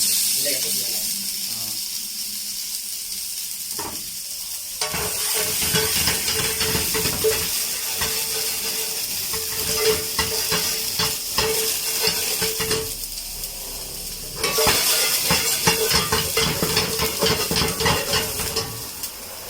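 Ginger, garlic, onion and tomato sizzle and hiss steadily in a frying pan while being stirred, with people talking over the cooking.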